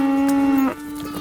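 A single longhorn cow from a herd gives a loud, close, sustained moo that drops off abruptly, followed by a softer lingering tone.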